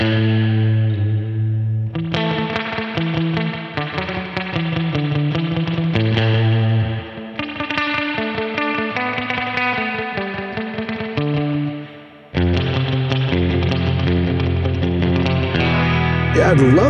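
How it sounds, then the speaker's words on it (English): Electric guitar plays a twangy melody, drenched in splashy spring reverb and echo, loud and steady, with a brief pause near the end. "Is that your real spring reverb in there?"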